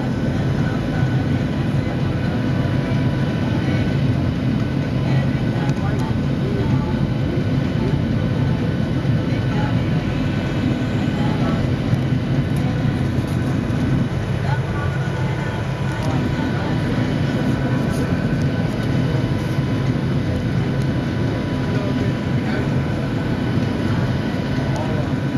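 Steady, loud cabin roar inside an Air Pacific airliner on approach to land at Cassidy Airport, Christmas Island, a continuous low rumble with engine hum filling the space and no clear talk.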